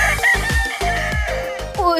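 A Philippine rooster crows loudly and close by, a strained, drawn-out call with several rising and falling bursts that carry through the whole two seconds, with no voices over it.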